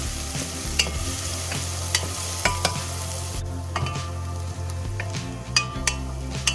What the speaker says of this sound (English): Once the onions are slightly softened, add the garlic and cook for 1 more minute.